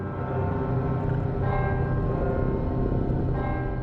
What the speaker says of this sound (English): Sounds like bells are chiming.